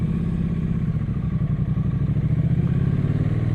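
A 2018 Triumph Street Twin motorcycle engine running, a deep, beefy, steady rumble with a throbbing pulse, loud and close, with light mechanical clatter and no voices.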